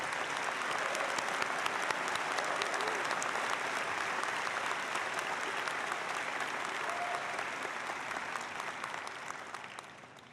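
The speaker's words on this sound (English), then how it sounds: "And now there a round of applause for John Robinson." Sustained applause from a large audience at an undergraduate spring commencement ceremony, dense clapping holding steady for about ten seconds before easing slightly at the end, with no talk over it.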